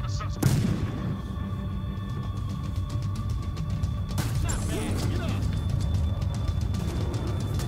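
Gunfire in the Battlefield Hardline video game: a sharp loud shot near the start and another burst around midway, over a rumbling game soundscape with rapid mechanical clatter and a talking voice.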